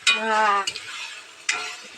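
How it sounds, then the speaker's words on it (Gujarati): Manchurian being tempered and fried in a pan at home, with a sizzling burst and harmonic clatter at the start, then a quieter spitting sizzle broken by two sharp bursts of frying. "વઘાર છે થોડી મંચુરિયમ"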